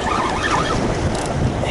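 Strong wind blows across a fishing shore, a steady loud rush buffeting the microphone with faint surf beneath, continuous and without talk.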